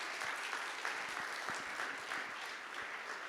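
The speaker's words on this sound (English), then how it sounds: "Can I please get another massive round of applause?" Audience applause after a talk at the OzCert conference: a dense, steady wash of many hands clapping, sustained and fairly even throughout with scattered sharper individual claps, no voices over it.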